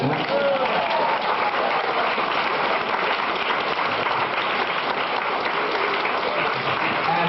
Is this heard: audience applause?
yes